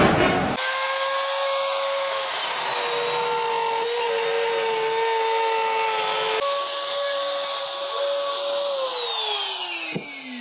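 A trim router fitted with a large perspex base cuts into a guitar body, giving a loud, continuous high whine with a steady pitch that drops slightly as the cut proceeds, then shifts near the end.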